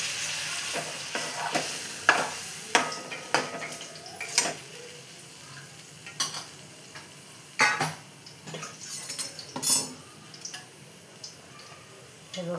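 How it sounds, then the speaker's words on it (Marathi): Okra fritters coated in gram flour and spices frying in a pan, with a steady sizzle broken by repeated sharp scrapes and clinks of a utensil stirring against the pan, close and fairly loud. "हे बघा भेंडीचे भजी बनवते."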